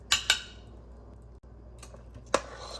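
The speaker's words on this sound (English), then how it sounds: "Let's give it a nice stir." A spoon knocks and scrapes against a pot of smoky black bean and ham soup: two quick clinks, a pause with faint background, then a few more taps and one sharp clank, close and alone.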